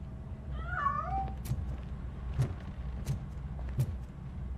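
A cat meows in RoboCop: Rogue City with a single rising, wavering call near the start, set against a low ambient rumble with a few soft thuds afterward.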